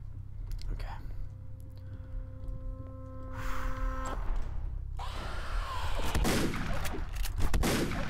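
A shotgun fires in the dark horror game Grey, sharp booming blasts with reverberant tails, the later shots louder and denser, while a voice speaks quietly between them.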